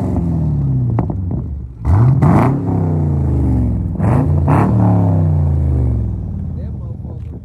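A Pontiac G8 engine revs hard in bursts with a deep, throaty rumble from a loud Flowmaster exhaust, rising and falling several times while people talk nearby.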